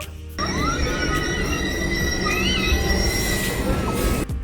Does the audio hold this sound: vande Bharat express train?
yes